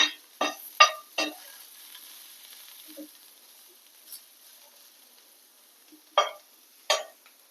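Bitter gourd frying in a pan, heard as short bursts of sizzle and stirring scrapes spaced out over quiet, with two louder crackles near the end.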